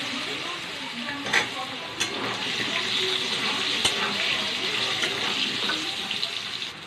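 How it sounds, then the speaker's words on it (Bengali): Potatoes frying in a pan with whole cumin, a continuous crackling sizzle with occasional sharper pops and stirring clatter, close and steady throughout. "এবার আলুটা ভেজে নেব"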